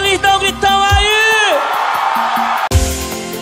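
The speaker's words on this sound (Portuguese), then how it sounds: "Quem tá feliz, dá um gritão aí." A concert crowd shouts and whoops loudly in response from a stage, with sustained cheering voices layered over amplified music.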